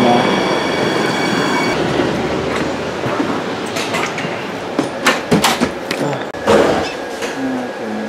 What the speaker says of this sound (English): My train's coming by.